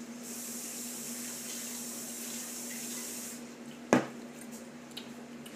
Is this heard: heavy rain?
no